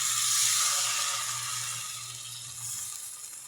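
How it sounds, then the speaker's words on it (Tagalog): A little water goes into a hot pan while cooking a Filipino sarciado fish dish, giving a steady bright hiss and sizzle that slowly fades, heard alone and up close. "At tapos lagyan natin ng water. Konting tubig lang."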